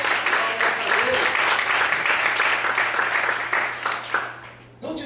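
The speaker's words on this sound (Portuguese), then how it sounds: "Quantos podem aplaudir e glorificar o Senhor nessa noite?" Congregational applause at an evening church service, a sustained wash of clapping filling the room that fades out near the end, with voices mixed in underneath.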